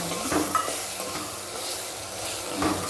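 Soaked soybeans being stirred into a frying masala in a pan, heard as a close, continuous sizzle with scraping spoon strokes and a few light clinks of utensil against the pan.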